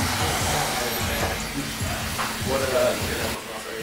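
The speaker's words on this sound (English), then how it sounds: "And we get a blow dryer," A blow dryer on low heat and low speed runs at a barbershop during a hair and beard trim, a soft steady airy hiss with a person talking over it.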